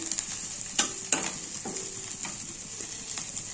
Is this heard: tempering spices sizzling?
yes